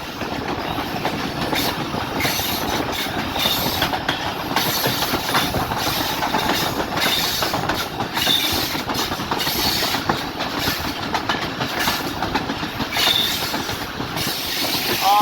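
The Rehman Baba Express running between Taxila and Rawalpindi near Islamabad, heard from aboard: a constant loud rumble with rhythmic clickety-clack from the wheels and occasional faint squeals, steady throughout with no speech.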